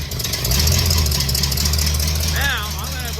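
An engine starts for the first time, running with a steady loud rumble close by. A voice speaks over it near the end.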